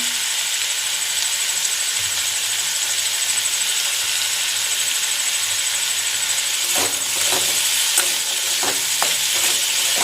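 Potato curry cooks in a pan, a loud constant hiss of sizzling with a faint high whine, then scraping stirs and clinks of a spoon join in the later seconds.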